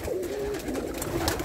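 Pigeons cooing in a loft, a close, steady low warbling coo repeating through the short stretch with no voices over it.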